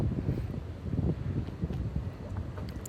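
Gusty wind blows outdoors and buffets the microphone in uneven rumbling surges, moderately loud and steady throughout, with no voices.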